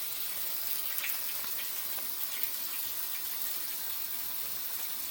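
Water running steadily into a washing machine as it fills for a load of laundry at home, a constant soft hiss and rush with no talking, close by.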